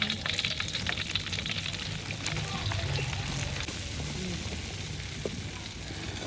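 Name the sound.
ghee heating and sizzling in pan for panjiri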